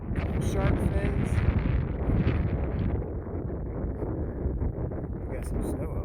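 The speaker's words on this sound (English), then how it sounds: "I should say the wind is chilly" Chilly wind blows across a mountain trail on the Appalachian Trail, a steady rushing buffet against the microphone, louder at first and then settling to a softer constant roar.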